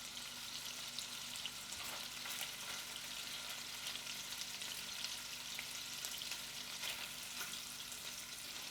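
Garlic butter steak bites sear in a hot pan, giving a steady, close hiss of frying that runs unbroken for several seconds at a soft level, with no voices.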